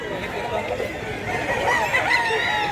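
Chickens and roosters cluck and crow at a busy poultry market in Mantalungon, Cebu, layered over the chatter of a crowd.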